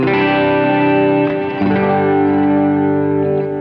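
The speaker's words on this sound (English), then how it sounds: "this is just a typical dotted eighth delay" Electric guitar through a typical dotted-eighth delay with only one repeat, worship-style tone: loud, close, sustained chords and notes that shift midway and ring on with a smooth echoing tail, played alone.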